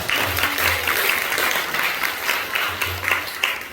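Steady, loud round of congregation clapping in a church during a celebratory worship service, continuous and fairly close with little talk over it.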